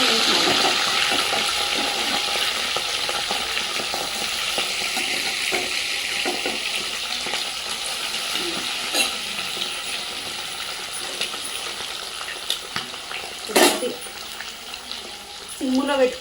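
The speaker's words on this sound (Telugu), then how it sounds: "బంద్ చేసి ఇప్పుడు దీనిలో మనం డీప్ ఫ్రై చేసుకోవాలి." Prawns deep frying in a pan give a steady, dense sizzle that runs throughout at moderate loudness, with occasional stirring clinks and a brief louder splash near the end.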